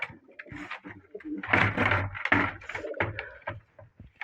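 Tumbler pigeons cooing close by indoors, overlapping soft throaty coos and rumbling calls repeating in quick bursts with no talk.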